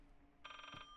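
A telephone in the video game Layers of Fear gives a short, faint electronic ring with a rapid trill. It lasts under half a second and stands alone with no talk.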